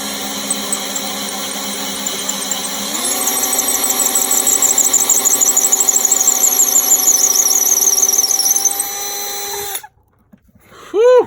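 A power drill whines loudly and steadily, its pitch stepping up as it bites into hard antler, then cuts off abruptly before a brief final burst.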